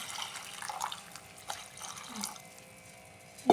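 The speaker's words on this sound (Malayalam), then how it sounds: "ഇതിലേക്ക് നമ്മൾ കഞ്ഞിവെള്ളമാണ് ഒഴിച്ച് കൊടുക്കുക" Rice water poured from a vessel into a cooking pot, a soft, fairly quiet splashing trickle with small drips and a louder splash at the end.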